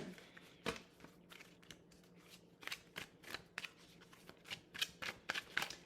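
Tarot cards are handled and drawn from a deck: quiet, close rustles and crisp card snaps come in an uneven run, growing busier toward the end, with no talking.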